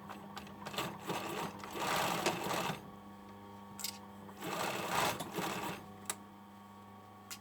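A sewing machine runs in two steady stitching bursts as it sews a hoodie sleeve seam at 1.5 centimetres, with short pauses and small clicks between runs, close and fairly quiet.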